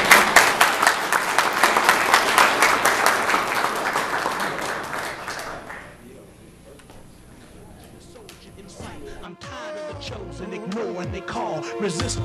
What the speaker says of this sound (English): Give that brother a round of applause.